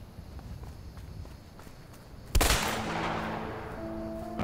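A single loud gunshot from the video game A Way Out, a sharp blast with a ringing decay, preceded by quiet footstep-like shuffling and followed by a lingering tonal hum.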